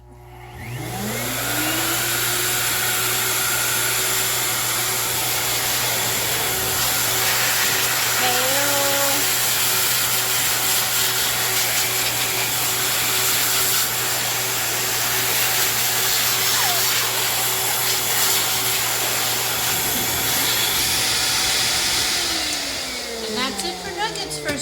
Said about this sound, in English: First blow dry.